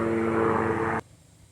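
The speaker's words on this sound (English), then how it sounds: "And helicopter flies overhead." Aircraft engine drone, steady and fairly loud, passing overhead for about a second before cutting off abruptly to near silence.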